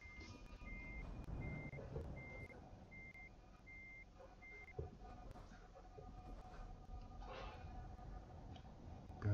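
Euro Truck Simulator 2 truck pulling out with a steady run of regular reversing beeps over a low engine rumble and game ambience, moderately loud and without speech.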